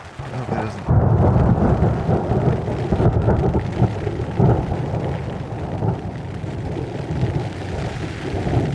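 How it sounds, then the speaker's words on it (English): Outdoors during a storm, steady rain falls as a low, rolling rumble of thunder swells and persists, loud and close, without speech. "it's raining a decent amount right now"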